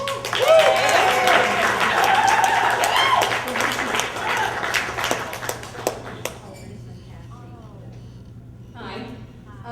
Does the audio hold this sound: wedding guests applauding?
yes